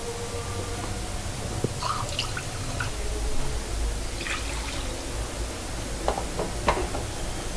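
Water poured into a simmering paneer and potato kofta masala gravy in a pan, a steady soft trickle with scattered drips and light splashes, fairly close and continuous, with no talking.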